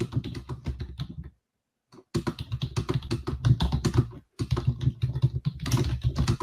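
Rapid clicking of computer keyboard keys in steady bursts, with a short pause partway through, close and fairly loud at a day trader's desk.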